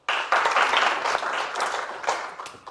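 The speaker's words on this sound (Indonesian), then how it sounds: "tepuk tangan." Crowd at an Indonesian comedy roast show breaking into applause, clapping starting abruptly, swelling and then thinning out over a few seconds, fairly close and lively.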